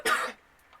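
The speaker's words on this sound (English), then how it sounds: "there's going to be a lot of coughing in this video" A single short, close cough, sharp and throaty, from a woman with a sore throat, followed by near-silence and a faint breathy sound at the end.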